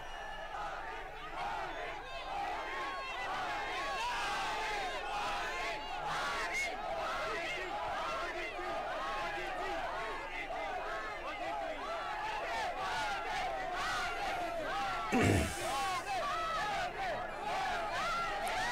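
A dense crowd outside Vidhana Soudha in Bengaluru welcomes Prime Minister Narendra Modi with a steady roar of chanting and shouting voices. A sharp thump stands out near the end.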